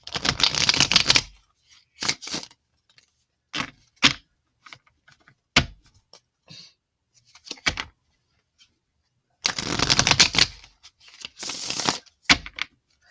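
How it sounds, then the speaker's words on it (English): Tarot cards riffle and shuffle in short bursts separated by pauses, with a couple of longer shuffles, close and crisp. "so let's do some shuffling"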